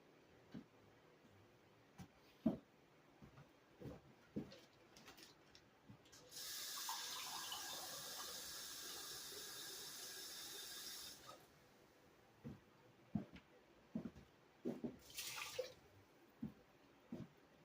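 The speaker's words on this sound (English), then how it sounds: "And then we'll add 3 cups of water." Water from a tap pours steadily into a pot for rice for several seconds in a kitchen with a wood stove, framed by scattered clunks and knocks before and after.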